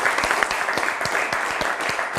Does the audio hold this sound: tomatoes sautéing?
no